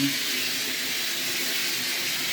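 Steady rush of running water pouring strongly for washing clothes, a continuous loud splashing flow like a faucet filling a basin.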